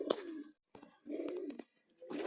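A pair of pigeons coo in soft, low, throaty bursts, three separated phrases close by with brief quiet gaps between them.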